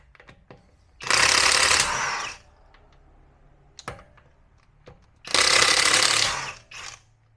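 A power tool with a 21 mm socket spins off the lug nut covers on a Cybertruck wheel, giving two loud, close bursts of rattling impact whir, each about a second long, with sharp clicks and taps in between.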